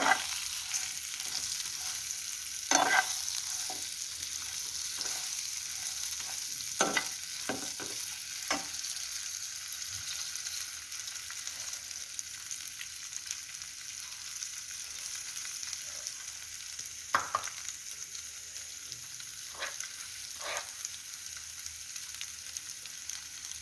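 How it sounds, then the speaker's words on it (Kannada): Okra sizzles steadily in hot oil in a home kitchen pan, a continuous close frying hiss broken by occasional scraping clinks as the pieces are stirred to coat them. "ಎಣ್ಣೆ ಕಾಯ್ದ ಆಮೇಲೆ ಬೆಂಡೆಕಾಯಿನ ಹಾಕಿ ಚೆನ್ನಾಗಿ ಹುರ್ಕೊಳ್ಳಿ ಒಂದು ಸ್ವಲ್ಪ"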